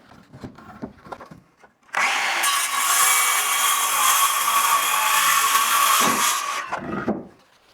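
A power saw cuts through a wooden board during home construction, a loud continuous whine lasting about five seconds after some handling clatter, then winding down into a few knocks.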